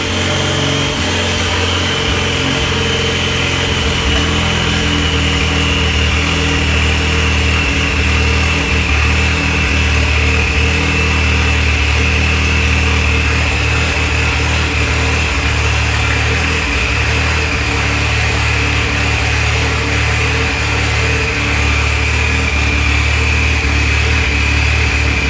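An Ecoboost engine fitted in a DeLorean idles steadily while warming up, producing a loud, constant drone with a high whine running through it, unbroken for the whole stretch.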